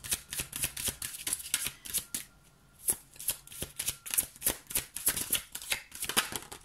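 Tarot cards being shuffled by hand, a close, rapid series of crisp riffling and flicking bursts with one short pause partway through and no talking.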